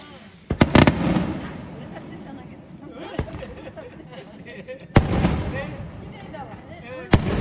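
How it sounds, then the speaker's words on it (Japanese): Fireworks burst at the Takahagi summer festival in Japan, several sharp loud booms spaced irregularly with crackling tails, while people chat nearby throughout. "久しぶりに花火見られてよかったよね"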